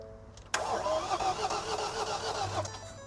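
A 2021 Ford Transit Custom van with low compression cranks hard over its starter in one continuous, loud, rough burst of about two seconds that cuts off abruptly, with no voices over it.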